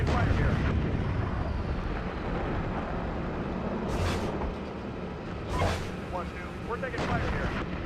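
Heavy incoming gunfire and booming artillery-like blasts roll through a military shooter game, a dense continuous rumble with sharp bursts near the middle and a voice talking over it.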